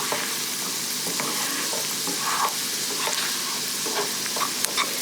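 A spoon stirs a mixture with dried parsley and ramps in a frying pan over a steady sizzle, with scattered scrapes and soft taps against the pan at an uneven pace, close up and no voices.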